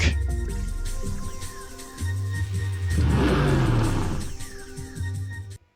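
A maxed-out Pontiac races in Need for Speed: Road Challenge on PlayStation, its engine droning and revving up through gear changes, loud and close, with a rushing whoosh midway before cutting off abruptly.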